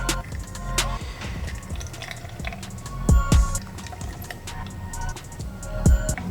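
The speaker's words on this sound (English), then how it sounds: "squeeze the water into the tumbler" A lemon is squeezed by hand so its juice drips and trickles into a tumbler, part of making a Vaseline and lemon face mixture. Close, wet dribbles come with a few sharper drips and splashes, and no one speaks.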